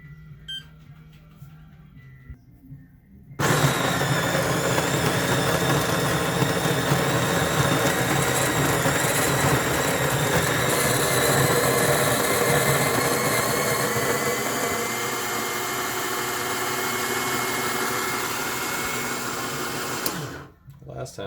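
Capresso Infinity coffee grinder grinding beans, a loud steady whirring motor drone that starts abruptly after a few quiet seconds, runs evenly and eases slightly toward the end before stopping. The motor has been giving off a burning oil smell.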